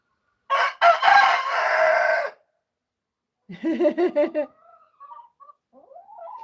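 A farm rooster crows twice: a loud, long crow near the start, then a shorter broken crow after a pause, with faint bird calls trailing at the end.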